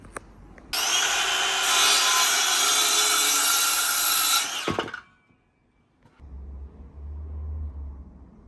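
A hand saw cuts through the end of a timber upright for a flat-roof skylight on an extension build, a loud steady rasping stroke for about four seconds that stops abruptly, followed by quieter handling and a low rumble.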